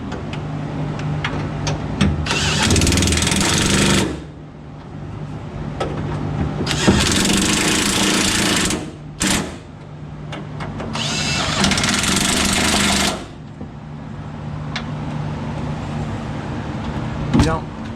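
An impact wrench tightens the fuel tank bolts on a GMC K2500 pickup during an LS engine swap, firing three long, loud hammering bursts and one short burst, with a steady background hum between them.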